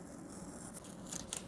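Scissors snip through material in the middle of a homemade witch hat, a few faint, quick cuts near the end of a quiet moment.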